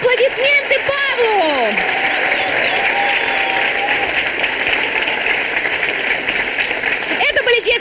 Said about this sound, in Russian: Аплодисменты Павлу!